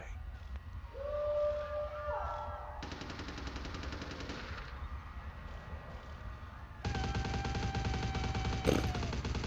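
Gunfire in the PC game Vampire: The Masquerade – Bloodlines, with bursts of rapid, machine-gun-like shots over a steady background hum, growing louder and denser near the end.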